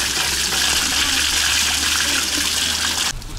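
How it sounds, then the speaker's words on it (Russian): Spring water flowing steadily near the Zugres quarry in Donetsk, a loud continuous rushing splash that stops abruptly near the end. "показать вам родник, да и немного припастись водички"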